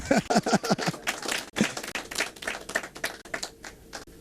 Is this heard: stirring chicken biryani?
no